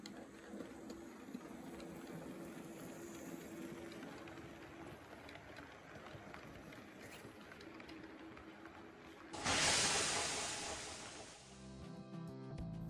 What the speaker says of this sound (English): The motor, though, is a tad on the noisy side compared to recent models I've reviewed